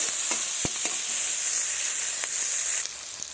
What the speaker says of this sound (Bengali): কড়াইয়ে সরিষার তেল দিয়েছি, এবার পেঁয়াজ কুচি দিয়ে দেব